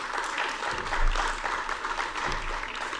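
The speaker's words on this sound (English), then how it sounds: "Go ahead, clap it up for Braden." Audience applause at a Ravenna School District board of education meeting, honoring a grade 8 student: steady, dense clapping from a roomful of people lasting about three seconds, swelling slightly near the middle.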